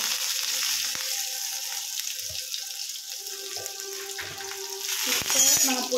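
Mustard seeds and curry leaves crackle and sputter in hot oil for an egg poriyal, a steady close sizzle with scattered pops, growing louder and busier near the end, with no talking.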